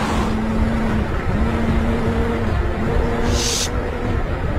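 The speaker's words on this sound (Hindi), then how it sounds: "एलिफ, एलिफ, गाड़ी आराम से चलाओ" A car driving along a road gives a steady droning engine hum under road noise, held at a constant level throughout with no speech.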